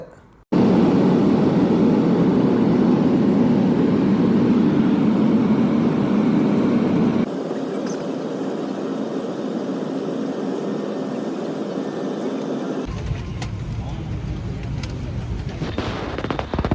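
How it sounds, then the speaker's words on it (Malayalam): A loud, steady roar of airplane engines during a landing at Bengaluru's Kempegowda Airport, shifting in tone partway through as the rumble drops and a rougher rattling noise takes over. "ഇതാ റൺവേയിലേക്ക് ഇതാ ഫ്ലൈറ്റ് ഇറങ്ങുന്ന ദൃശ്യമാണ് നിങ്ങൾ കാണുന്നത്"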